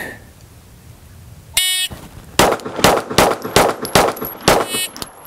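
Pistol fire at targets on a shooting range: a timer beep, then six sharp close shots in a fast, even string lasting about three seconds, loud and ringing.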